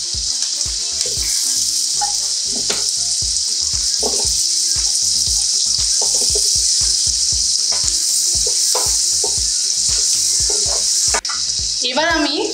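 Potatoes tipped into onions already frying in a pan for a fish stew give a loud, steady sizzle, with repeated scraping and clattering as the pan is stirred, and a brief splash near the end.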